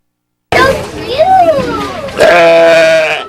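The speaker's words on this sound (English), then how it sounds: "This sheep was just one of the many animals on display for people to see at the American Heritage Center" A sheep at a baby-animal farm show bleats loudly and close, one long wavering call followed by a second sustained bleat.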